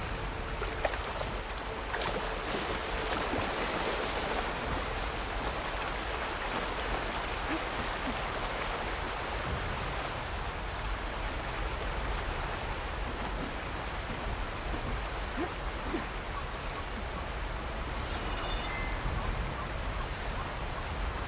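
A waterfall in the video game Horizon Forbidden West gives a steady, dense rushing roar that fills the scene evenly from start to finish, with no speech.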